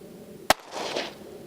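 A single sharp, loud gunshot from firing handloaded ammunition outdoors cracks once, followed by a brief rumbling echo as it fades.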